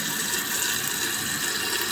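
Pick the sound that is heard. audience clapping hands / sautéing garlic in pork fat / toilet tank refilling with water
toilet tank refilling with water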